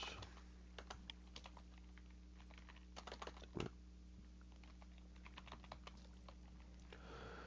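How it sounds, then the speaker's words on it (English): Steady typing on a computer keyboard, with clusters of close key clicks and taps in an uneven rhythm over a low constant hum, and no voices. "Then type in the item"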